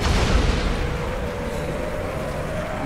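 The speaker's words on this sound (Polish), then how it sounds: "Wybuchają o zbiorniki paliwa w autach." Car fuel tanks exploding in the video game Dead Rising 3: a loud, broadband blast that settles into a dense, rumbling roar lasting about three seconds, with no talk.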